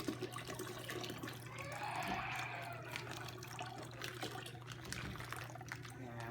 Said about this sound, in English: So I'm going to do one more pour.